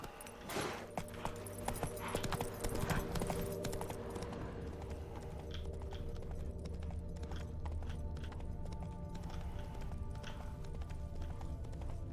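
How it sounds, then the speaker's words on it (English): Horse hooves clip-clopping at a steady trot in The Witcher 3 video game, a continuous rhythmic patter under a busy layer of game ambience and music. "Come on, Roach. Don't throw me off."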